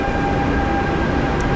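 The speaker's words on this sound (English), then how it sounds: "So let's wait for the train to come." A French high-speed train approaching a station, heard as a loud, steady rumble with a faint tonal whine above it, continuous throughout and with no voices.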